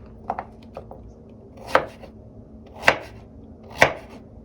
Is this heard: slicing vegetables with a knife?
yes